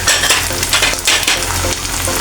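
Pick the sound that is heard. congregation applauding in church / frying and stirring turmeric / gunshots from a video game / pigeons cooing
frying and stirring turmeric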